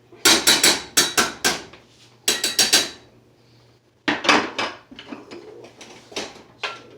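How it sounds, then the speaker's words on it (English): Cooked potatoes are crushed in a pot with a utensil, producing clusters of sharp, knocking thuds in quick runs separated by short pauses, loud and near. "Crush them down a little bit"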